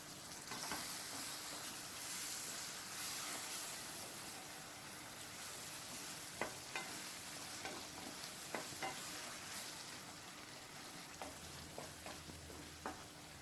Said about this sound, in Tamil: இதில் சேர்த்து நல்லா இந்த எண்ணெயில் வதக்கிக்குங்க.